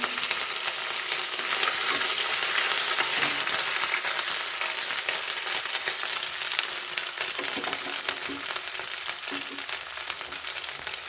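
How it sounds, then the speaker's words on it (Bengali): Garlic paste and ginger paste frying in a pan over lowered heat give a steady, close, bright sizzle that holds evenly throughout, with soft scraping stirs now and then and no talking. "রসুন বাটা দিয়ে দিলাম, আদা বাটা দিয়ে দিলাম।"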